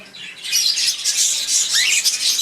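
A breeding pair of ino red-eyed lovebirds giving harsh, shrill squawks in a rapid, continuous chatter, close and fairly loud with no talk over it.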